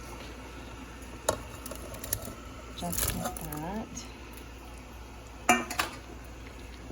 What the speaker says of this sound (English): Now I'm gonna add my meatballs.